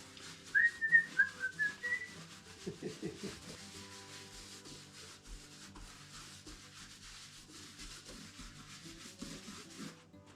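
Brief faint whistling of a few notes, over soft brushing and rubbing strokes nearby, then just quiet scraping continues.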